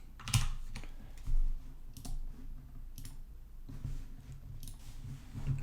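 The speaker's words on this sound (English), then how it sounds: "Let's type something." Keys clatter on a computer keyboard in short bursts of quick typing with brief pauses, fairly quiet and close, with no speech.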